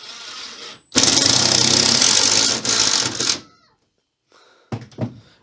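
A power drill drives screws into a campervan storage door, whirring loudly in a sustained burst for about two and a half seconds with a brief dip, then a couple of shorter, quieter bursts after a pause.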